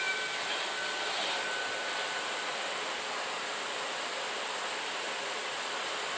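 Vacuum cleaner pulling Maine coon cat fur off a bed, a steady airy roaring whoosh held at an even level throughout, close and continuous with no talking.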